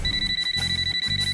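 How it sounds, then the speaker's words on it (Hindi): A telephone bell rings in a small shop, a steady electronic trill repeating in short bursts with brief pauses between them, close and clear with no talk over it. "फोन की घंटी बजते ही लकी को वहां से निकलने का मौका मिल गया"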